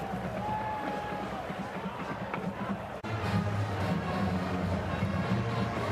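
Steady roar of a large crowd at the Los Angeles Memorial Coliseum during a rainy USC Trojans college football game against Iowa, a broad continuous wash of noise that swells slightly louder halfway through.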